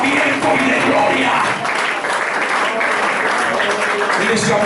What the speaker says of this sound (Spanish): En ese aplauso fuerte a Jesucristo.